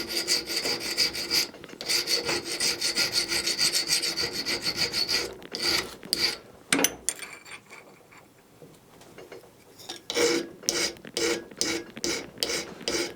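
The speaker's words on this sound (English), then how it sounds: "I have to file that off so the braze will cut through to the clean metal, and I do that with a file" A hand file rasping black carbon off metal on a 5-inch gauge railway trolley brake part, close and rhythmic with quick repeated strokes, a pause midway, then another run of strokes.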